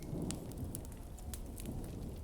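Rain patters steadily outside during a storm, soft crackling drops with a low rumble underneath, fairly quiet and continuous.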